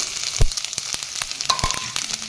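Spices such as panch phoron and whole cumin frying in hot oil in a pan for an Indian soybean curry: close crackling sizzle with sharp pops and spits, one pop standing out loudly, and no talk.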